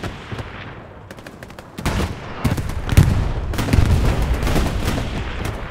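Strafing run in Hell Let Loose on the Omaha Beach map: dense, loud bursts of automatic gunfire and heavy impacts roll in from about two seconds onward, building into a sustained barrage.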